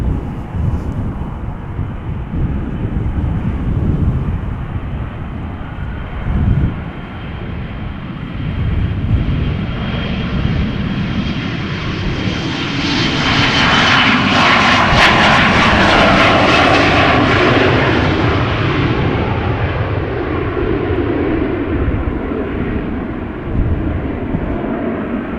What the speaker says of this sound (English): Embraer 175 KLM flight 1515 outbound Norwich